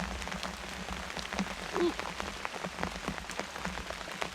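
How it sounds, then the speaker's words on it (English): Heavy rain patters steadily on a tarp shelter at a lakeside camp during a prolonged storm, dense drumming drops close by, with a brief soft exclamation from one person partway through. "it's been coming down real good, so I don't want to put my nice new camera out in the rain"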